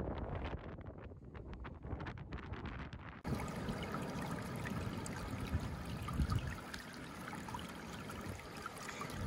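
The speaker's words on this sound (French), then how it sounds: "Il y a l'eau qui s'écoule ici" Water trickling steadily over volcanic rock on São Nicolau, Cape Verde, under heavy wind buffeting the microphone, a continuous rushing wash with no voices.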